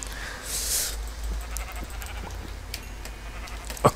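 A Minecraft sheep gives a short bleat early on and another near the end, both fairly faint against a quiet game background.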